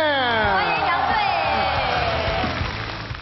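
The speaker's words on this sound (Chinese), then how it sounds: "用全场最最热烈的掌声欢迎我们辽宁男篮的队长杨斌" A live entertainment-show audience greets Liaoning men's basketball captain Yang Bin with loud, sustained cheering and whoops, a dense continuous crowd roar that holds steady and eases slightly at the end.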